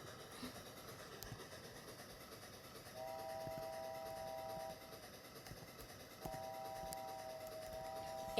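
Train driven along a track in the video game Off Roading Epic, a steady rumbling run with two sustained whistle or horn tones sounding partway through, alone without talk.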